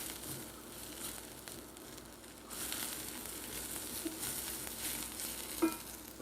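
Red cooking wine hitting a hot pan of softened onions to deglaze it, with a soft frying hiss that swells into a louder, steady sizzle midway and keeps going, heard alone and fairly close.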